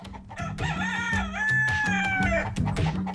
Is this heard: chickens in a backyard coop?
yes